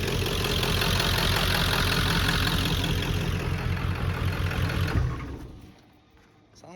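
A 1997 Ford F-250 HD pickup with the 7.3 diesel idles with a steady, loud, rumbling clatter, affected by heavy blow-by, then cuts off abruptly near the end, leaving a fading rattle and quiet.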